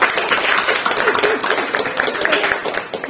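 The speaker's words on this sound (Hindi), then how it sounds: "अंजू भाभी के लिए भी जोरदार तालियां।" A crowd at a village honouring event keeps clapping in a dense, steady patter for about three seconds, with some voices under the applause.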